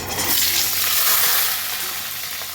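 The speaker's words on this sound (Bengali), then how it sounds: "এবার আমি আলুগুলো দিয়ে দেবো।" Potatoes hit hot oil already tempered with cumin and bay leaf, giving a steady, close sizzle with faint stirring scrapes throughout, loud and continuous with no voices.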